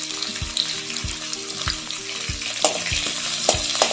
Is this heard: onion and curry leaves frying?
yes